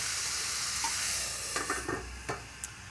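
Onion sizzles steadily in a small 9-inch pan, a constant bright hiss broken by a few soft clinks and scrapes of stirring.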